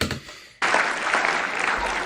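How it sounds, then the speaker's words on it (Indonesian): After a short spoken bit, a large crowd at a political speech bursts into sudden, loud applause that continues steadily to the end. "Tepuk tangan."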